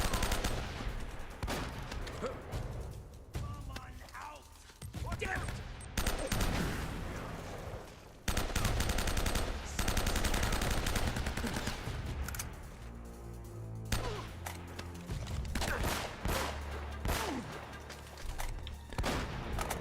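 Gunfire in Uncharted: Drake's Fortune, a final showdown battle, with loud repeated shots and bursts over a dense, busy game soundscape, a few sharp cracks standing out near the middle.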